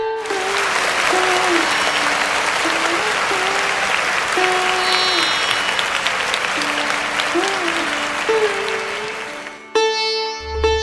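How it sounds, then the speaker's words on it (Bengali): An audience claps loudly and continuously for about nine seconds, a dense, close wash of hands with a soft melody running underneath, before the clapping abruptly stops. "করতালি দিয়ে ওনাকে উৎসাহিত করুন"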